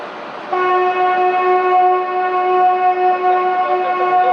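The Kaifiyat Express passenger train passing close by, its horn sounding a loud, steady multi-tone blast that begins abruptly and holds for several seconds over a low rumble of the passing train.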